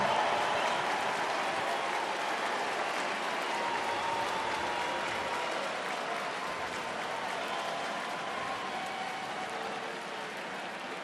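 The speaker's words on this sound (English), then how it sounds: "A good ovation for Yadi as well, but you still hear the smattering of boos" A baseball crowd at a Cardinals–Cubs game gives Yadier Molina a sustained ovation, broad applause and cheering filling the stadium, with scattered boos mixed in and the roar slowly easing.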